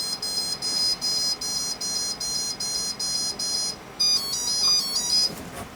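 High-pitched electronic beeps from the speed controller of a 3lb combat robot pulse in a steady rhythm, then shift to a different, brighter tone pattern before cutting off, without the final two beeps.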